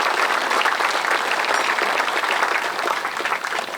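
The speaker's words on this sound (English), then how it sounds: "So let's give a round of applause to Charles, who does this every year for us." An outdoor Memorial Day ceremony audience applauds in a steady burst of clapping that holds for several seconds and eases slightly toward the end, with no talking over it.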